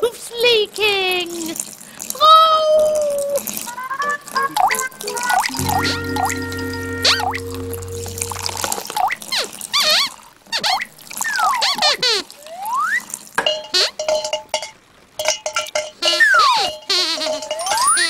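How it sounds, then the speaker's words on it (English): Water drips from a leaking roof indoors in a children's puppet show, a light dripping scattered among chirpy voices, musical tones and comic sound effects. "Dripping? Oh, no! The roof's leaking!"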